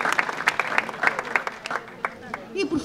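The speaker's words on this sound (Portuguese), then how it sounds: "Mais uma salva de palmas em recordação destes movimentos culturais" Crowd applause during a town festival parade in Doze Ribeiras, scattered sharp claps rising and falling over a few seconds, with a voice speaking over the sound near the end.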